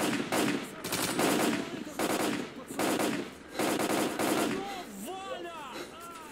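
Sustained automatic gunfire in STALKER Clear Sky, a machine gunner firing repeated loud bursts with short gaps, echoing close by, ending with softer ringing tones.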